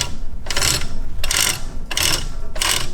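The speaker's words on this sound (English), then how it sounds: "We're gonna have some rubbing noises for a while until we rub through that that bolt head right there." A part on a junkyard-built twin-cylinder, four-speed mini bike rubs against a bolt head, giving four evenly spaced rasping scrapes over a steady low mechanical rumble, close and fairly loud with no talking.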